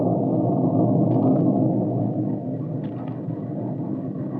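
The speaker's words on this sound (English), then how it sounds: "With the breaking of the storm" A storm breaks in an old radio drama: a steady, dense thunder rumble rolls continuously and fairly loud throughout, easing slightly in the second half, with no voices over it.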